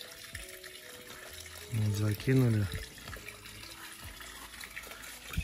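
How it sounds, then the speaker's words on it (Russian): Water from a hose soaks the soil inside a garden gazebo, a steady pouring and trickling that runs throughout under continuous outdoor background noise, while a person talks briefly over it. "хотели пролить хорошенько, чтобы вот земля прям напиталась водой"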